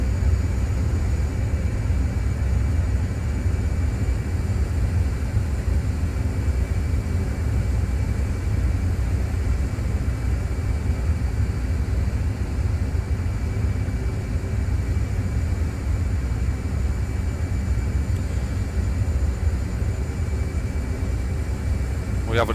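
An F/A-18 Hornet jet in a DCS flight simulation roars steadily at a constant level with its landing gear down, a broad unbroken engine rumble lasting the whole stretch.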